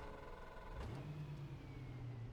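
A car engine starts and settles into a low idle with a brief rise in revs, fairly quiet and close, heard without talk.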